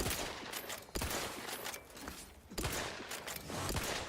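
Rapid bursts of video game gunfire crackle over about four seconds, dense and loud, with sharp individual shots standing out as two main volleys start and then restart after a brief lull.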